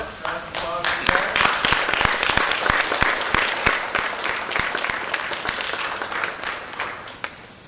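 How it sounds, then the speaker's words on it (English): Applause at a board of education meeting for a student of the month, a full burst of many people clapping that starts strong and gradually thins out over several seconds, with a few voices mixed in. "Round of applause for that."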